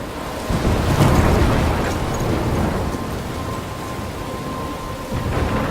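Thunderstorm in the video game Life is Strange: heavy rain hisses loudly and steadily while low thunder rumbles and swells near the start, with no talking.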